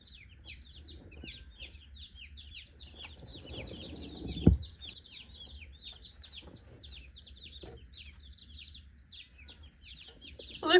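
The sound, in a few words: baby meat chickens cheeping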